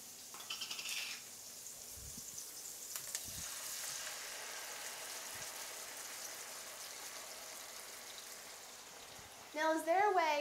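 Shrimp cooking in a pan for Shrimp Creole, with tomato sauce and diced tomatoes going in, gives a steady close sizzle with a few utensil knocks, and a brief voice comes in at the very end.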